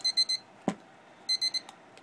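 A homemade timer prop's alarm beeps in two bursts of three quick electronic tones, close and clear, with a sharp click between them.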